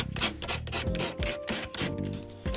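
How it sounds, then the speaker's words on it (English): Rough spackle on LEGO terrain cliffs is sanded by hand, with quick repeated rasping strokes in a close, steady back-and-forth rhythm and no voices. "The spackle can be quite rough in some areas, so I sanded those down."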